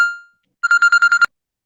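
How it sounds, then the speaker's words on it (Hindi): A phone rings in a short burst of about six rapid electronic pulses. A faint tone fades out before it, and the ringing cuts off abruptly with a click. No one speaks. "मुझे लगता है कि फोन आ गया है,"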